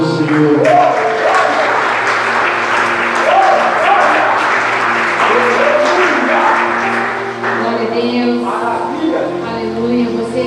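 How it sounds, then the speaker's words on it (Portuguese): A church congregation claps during a worship service, loud sustained clapping mixed with voices and a steady musical tone underneath, easing slightly toward the end. "As palmas do nome do Senhor."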